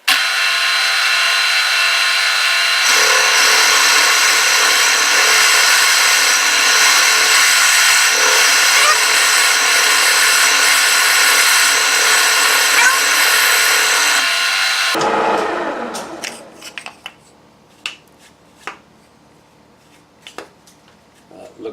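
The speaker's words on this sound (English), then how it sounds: "using a 3/8 end mill just to drill down for the camera bore" A loud, steady high-pitched grinding whine of a 3/8 end mill drilling down into metal runs for about fifteen seconds, then cuts off, leaving a few scattered clicks and taps.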